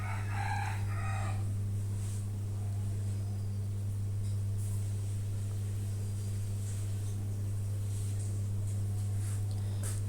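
Chickens being weighed in a basket on a scale for sale cluck and crow through a steady loud mechanical hum, with scattered bird calls heard throughout.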